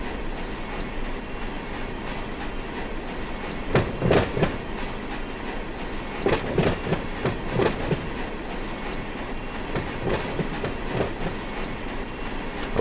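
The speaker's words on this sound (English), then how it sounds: "We shove back up the spur to set out these last cars." Freight cars shoved back up a spur in the Run 8 train simulator game, with steady rolling rumble and repeated clickety-clack wheel beats over rail joints, several louder clunks spaced through the run, close and continuous.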